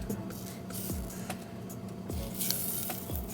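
Steady frying sizzle of butter in a hot pan, with a few brief clinks and small pops scattered across it, close and moderately loud.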